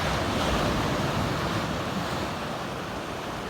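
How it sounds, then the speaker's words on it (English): Surf rolling in at Ryhope Beach beneath the cliffs south of Sunderland, a steady, close wash of breaking waves with wind rushing across it, loud and unbroken throughout with no voices. "This is Ryhope Beach and Cliffs, just south of Sunderland."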